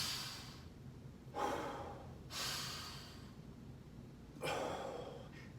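Slow, deep breaths during a martial arts strength and conditioning workout, three long airy exhales spaced evenly a couple of seconds apart, close and clear with no talking.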